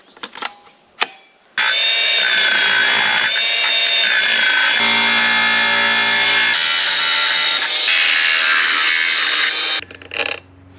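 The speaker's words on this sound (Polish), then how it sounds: "idę po szlifierkę i działamy." An angle grinder cuts and levels a mount on an e-bike, starting up and then running as a loud, continuous high-pitched whine for about eight seconds before spinning down.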